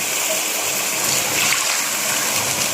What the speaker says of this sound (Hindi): और इसमें 1 कप पानी का हम शामिल कर देंगे।